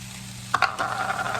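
Chicken and vegetables sizzling in a skillet as seasoning is sprinkled in, a couple of quick close scrapes and taps followed by a steady bright frying hiss.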